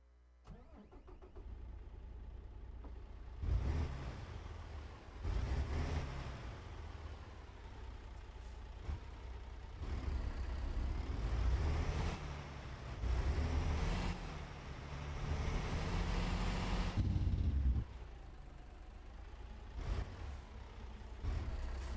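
A stock truck engine in American Truck Simulator rumbles while driving, a deep continuous drone that swells and eases through repeated throttle and gear changes, loud and alone.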